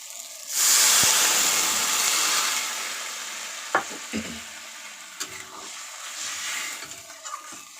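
Green chilli hits a hot frying pan with a sudden loud sizzle and hiss that slowly fades, followed by scattered scraping and knocking as a spoon stirs it around, close up and without talk.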